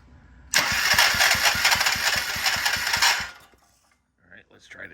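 A Troy-Bilt Pony rototiller's small engine fires up abruptly and runs with a rapid, even chugging beat for about three seconds, loud and close, then cuts out and falls silent before a voice speaks briefly.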